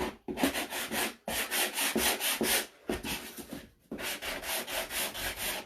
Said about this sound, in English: I'm just going to take a sanding block and probably distress it pretty much a lot.